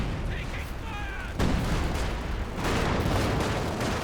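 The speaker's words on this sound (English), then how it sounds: "Mortar wars here." Mortar fire booms in a Company of Heroes 2 battle, with two heavy impacts landing around 1.4 and 2.6 seconds amid ongoing gunfire and battlefield noise. A faint whistle is heard early on.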